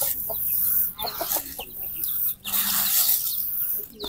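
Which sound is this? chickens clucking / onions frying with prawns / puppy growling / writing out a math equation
chickens clucking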